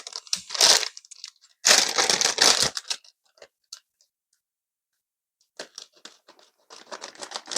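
Crinkling plastic with sharp scissor snipping and rustling in two loud bursts as a Lego polybag is cut open, then quiet, followed by lighter scattered crackles and rustles close up.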